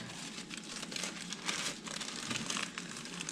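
A plastic bag crinkles steadily and close up as a croissant dough is wrapped in it, a dense continuous rustling and crackling with no pauses and no talk.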